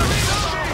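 Ship cannons firing in the video game Assassin's Creed 3, a loud dense booming barrage filling the short moment without a break.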